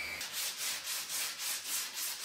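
Rhythmic scraping strokes of a hand scraper rasping raised epoxy resin off a wooden surface, about eight even passes, close and steady with no talking.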